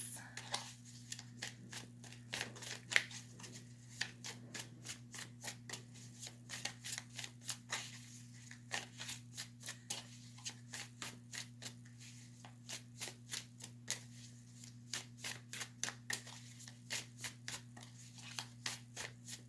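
Tarot cards being shuffled in a steady run of quick, crisp riffles and flicks, close and fairly quiet over a constant low electrical hum, with no voice.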